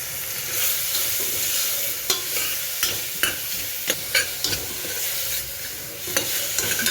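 Carrot and cabbage stir-fry over a high gas flame, a bright continuous sizzle broken by repeated sharp tossing and scraping hits in an irregular rhythm, close and fairly loud with no talk.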